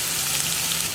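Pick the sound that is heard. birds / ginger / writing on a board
ginger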